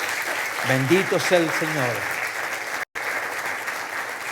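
Church congregation applauding during a sermon, a burst of clapping that fills the room steadily throughout, with a voice speaking over it near the start.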